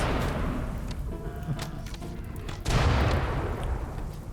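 A boomalop explosion in the video game RimWorld, with a muffled booming blast rising suddenly partway through over a low rumbling game background, followed by scattered thuds.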